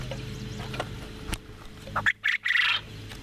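Homestead birds, likely ducks, give a few short quacking calls toward the end over a busy outdoor background with a low hum.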